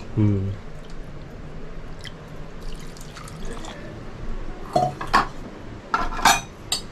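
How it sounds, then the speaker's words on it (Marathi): A cup of water poured into a mixer jar while making coconut dosa in a home kitchen, with dishes and metal clinking, small splashes and drips, and someone talking at times. "आता इथे मी 1 कप पाणी टाकते."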